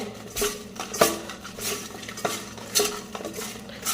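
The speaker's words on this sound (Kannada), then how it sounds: "ಸ್ವಲ್ಪ ಉಪ್ಪು ಹಾಕಿ ಮಿಕ್ಸ್ ಮಾಡಬೇಕು" Capsicum pieces being mixed with salt for bajji, with a spoon scraping and clinking against the bowl in uneven strokes, several sharper knocks standing out close by.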